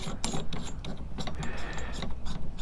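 Clicking, ratcheting metallic turns of a lock collar being tightened against a coilover spring on a Bilstein 6112 coilover during install prep, a steady run of close, repeated mechanical clicks with no talking.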